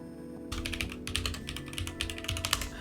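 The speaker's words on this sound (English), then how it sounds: "Ignore typing noises." Rapid, irregular keystrokes clatter on a computer keyboard close by, starting after a brief quiet moment and continuing in uneven bursts.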